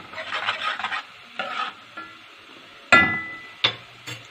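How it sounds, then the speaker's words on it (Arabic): Onion frying in a pan, nearly browned, stirred with a utensil: soft sizzling under several scraping stirs, then two sharper knocks of the utensil against the pan near the end. "البصله اهي قربت تحمر"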